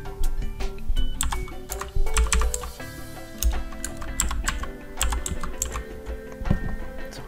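Fast typing on a computer keyboard, close and clear, with a steady run of crisp key clicks and occasional heavier thumps, heard alone.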